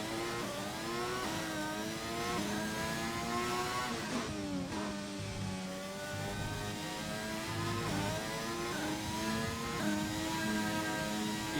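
The engine of an F1 race car in the F1 2021 video game, on a qualifying lap of the Canadian GP in the rain, whines continuously and shifts up and down through the gears with high revs and no talking.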